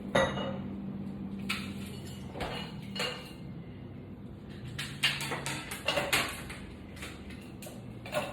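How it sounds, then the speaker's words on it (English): Ice cubes clink and rattle into a cocktail glass, a series of close, bright glassy knocks in scattered bursts, some quick clusters and a few single taps between quieter pauses. "I'm going to grab some ice."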